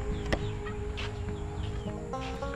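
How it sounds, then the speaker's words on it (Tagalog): Chickens on a home plot with newly planted guava and calamansi trees cluck steadily at close range, with one sharper squawk near the start and faint background birdsong throughout. "Biglang nagdami yung manok natin."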